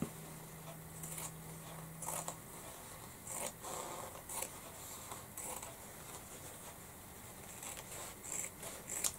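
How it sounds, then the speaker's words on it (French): Scissors snip through fabric doll pieces close to the cutting line, a series of quiet, irregular crisp cuts and rustles up close, with a brief low hum at the start. "Donc en fait vous allez découper vos pièces au plus près."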